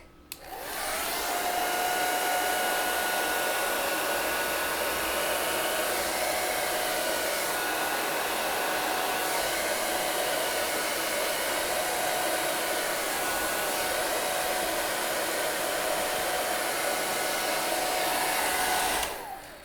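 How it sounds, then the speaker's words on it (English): A hair dryer blows with a steady, loud whir over alcohol ink, starting abruptly and running continuously before switching off at the end. "I use a hair dryer to blow the ink to get the shape and the directions that I want"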